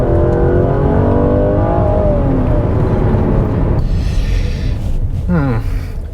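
A Mercedes GLC43 AMG SUV with a 9-speed automatic accelerates on rural English roads, its engine note loud and close from the cabin, climbing through the revs before a quick gear change and a brief voice near the end.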